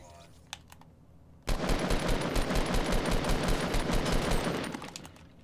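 Rapid automatic gunfire in the video game Fortnite, a sustained loud burst lasting several seconds after a few brief clicks, then cutting off abruptly.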